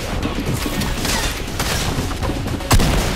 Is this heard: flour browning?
no